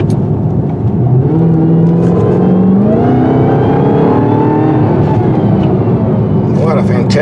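A 2021 Dodge Charger Hellcat Redeye Widebody sedan with an 800-horsepower engine revs loudly and close by, the pitch climbing and holding through a sustained rise, with talk over it.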